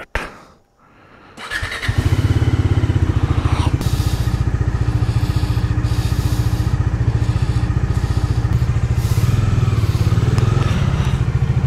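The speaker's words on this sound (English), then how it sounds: "I'll just start the bike." A motorcycle is started on a group ride to Nandi Hills, with a starter whir followed by the engine catching and settling into a loud, steady, close idle thump that keeps running.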